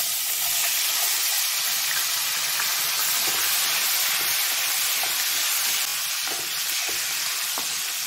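Garlic fries in a pan with whole spices (cinnamon, cloves, cardamom, peppercorns), giving a steady, close hissing sizzle with small crackles that carries on without a break and with no talk.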